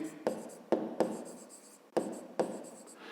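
Pen strokes on paper as a math formula for a perimeter is written out, about five distinct scratching bursts, each a sharp start trailing off, close and fairly quiet with no voice.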